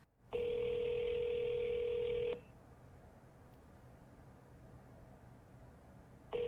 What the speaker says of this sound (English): I reached out through public phone numbers to ask about the situation here